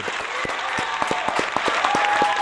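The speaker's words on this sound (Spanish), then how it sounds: "otro aplauso para Julio Chávez, diputado." Studio audience clapping for a deputy guest on a talk show, a steady patter of applause with a few distinct sharp claps, continuous and fairly close.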